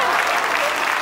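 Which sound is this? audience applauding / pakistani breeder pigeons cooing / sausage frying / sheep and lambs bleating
audience applauding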